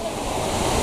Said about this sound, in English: That's a big waterfall.